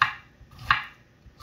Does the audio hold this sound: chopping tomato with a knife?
yes